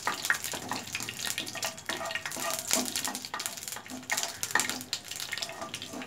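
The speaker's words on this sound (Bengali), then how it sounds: "একটু সর্ষেগুলো একটু সর্ষেটা ভালো করে ভাজতে হবে, সর্ষের একটা সুগন্ধ বেরোবে" Mustard seeds and dried red chillies sizzle and crackle steadily in hot oil for a raw mango chutney, with a dense continuous fizz and scattered small pops. No one speaks.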